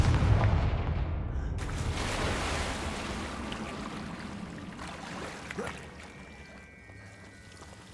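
Booming Confringo fire-spell blasts from Hogwarts Legacy, a loud burst that rolls and crackles and then fades slowly over several seconds.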